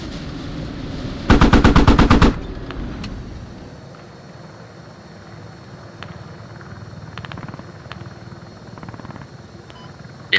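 A loud, roughly one-second burst of rapid machine gun fire rings out as a helicopter strafes in the military shooter game Squad, then gives way to a low, steady battlefield rumble with scattered faint distant shots. No one speaks.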